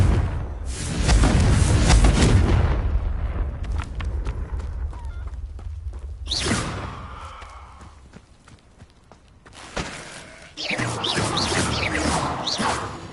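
Blasting-spell explosions from a video game, several loud crashing bursts with whooshing debris and rumble, separated by quieter stretches of ambient game noise.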